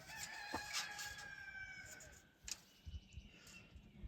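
A hen scratching in fresh dirt clucks in short, soft bursts, with a few louder crows and bird calls in the quiet background.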